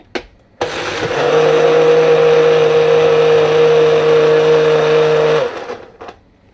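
An electric Moulinex mixer whirs steadily at high speed through pumpkin pancake batter, starting abruptly and running for about five seconds before cutting off, loud and close.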